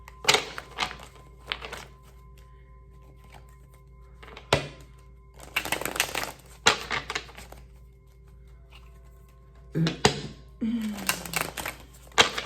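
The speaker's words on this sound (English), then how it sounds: "Let's shuffle this about 3 times." Tarot cards being shuffled by hand in several separate bursts of riffling and flicking, each a second or two long, with quiet pauses between and a brief thump near the end; close and fairly crisp.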